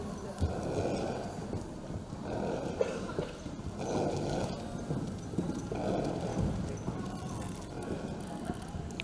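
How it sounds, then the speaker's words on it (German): Hoofbeats of an Icelandic horse trotting in an even two-beat rhythm at a riding assessment, a continuous run of clopping steps on firm ground at moderate distance, with a commentator talking over them. "Sehr taktklarer Trab im Übergang, dann noch einmal fast in den Tölt hineingewechselt."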